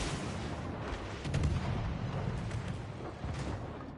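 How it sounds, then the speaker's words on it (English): Missile strike exploding in the naval game World of Warships Legends, a dense sustained rumble of booms and blasts with a few louder thuds mid-way, heavy and continuous throughout. "Missile hit confirmed."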